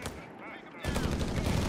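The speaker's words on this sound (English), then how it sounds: "Machine gun bunker there, almost ready." Machine gun bunker fire in the Company of Heroes 3 strategy game, German Wehrmacht against US forces, a dense loud burst of automatic gunfire cutting in halfway through after quieter battle ambience.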